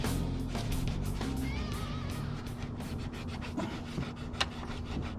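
Scotch-Brite pad scrubbing a greasy carburetor part during a swap from a stock two-barrel to a four-barrel Edelbrock, a quiet continuous rasping rub with repeated strokes, close by.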